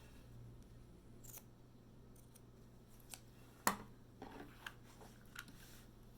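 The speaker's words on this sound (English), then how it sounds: "I'm cutting right up to the punched area" Scissors snipping fabric around a finished punch needle design being mounted on a primitive horn book, a few quiet, sparse cuts with one sharper snip partway through, close and faint in a hushed room.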